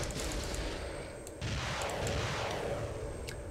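Vehicle weapon fire in the video game ArmA 3 comes as a dense, continuous barrage of booming shots over a steady engine rumble, with a brief dip and then loud firing resuming, with no talk.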